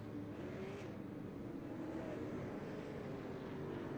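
Race cars from the iRacing sim at Myrtle Beach, a field following the pace car, give a steady, continuous engine drone with a low rumble throughout, fairly loud and unbroken, with no voices over it.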